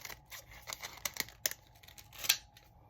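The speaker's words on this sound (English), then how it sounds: "let me grab my scissors here and just do this part first" Scissors snip repeatedly in a quick, uneven series of crisp cuts through paper, close by, with no voices.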